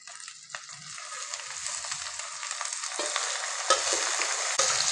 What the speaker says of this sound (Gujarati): હવે આ બરોબર આપણે મિક્સ કરી લઈએ।